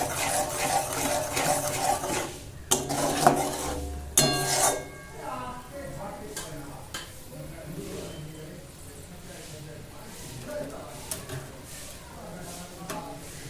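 Spatula stirring and scraping through paneer and cauliflower sautéing with salt and turmeric in a pan, with clinks of metal on metal, fairly quiet and intermittent under a speaking voice.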